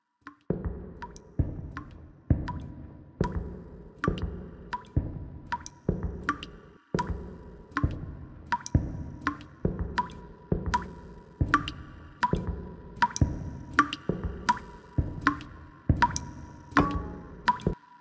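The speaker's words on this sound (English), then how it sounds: "There's a pipe that's always leaking right above it. I guess I'll just have to walk towards the dripping sound." Water drips steadily from a leaking pipe in a quiet space, each drop landing with a sharp, hollow plink at a regular rhythm, close and clear.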